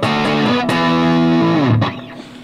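Heavily distorted electric guitar through a Peavey 6505 Plus amplifier, with loud sustained chords that bend down and then cut off abruptly, leaving a fading ringing tail.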